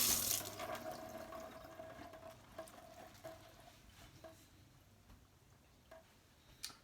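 Cabbage rinsed under running tap water at a kitchen sink, a soft steady stream of water with a few faint clicks and knocks as the leaves are handled, louder at the start and fading.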